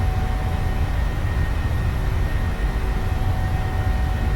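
A PMDG 737-700 in Microsoft Flight Simulator 2020 at takeoff thrust, its jet engines giving a loud, steady, broadband roar with a low rumble that runs unbroken and alone for the whole stretch.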